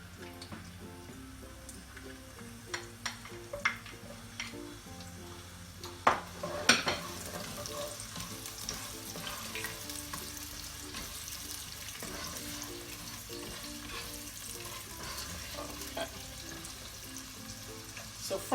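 Chopped onions hit warm oil in a pot for Ghanaian jollof rice and keep up a steady low sizzle, with occasional clinks of a utensil against the pan.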